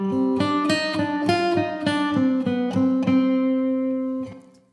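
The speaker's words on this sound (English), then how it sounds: "And also the Abbey Road Chambers" Abbey Road Chambers reverb from Waves applied to a plucked melodic phrase of repeated evenly spaced notes, ending on a held note that rings out and fades over the last half second; no voices.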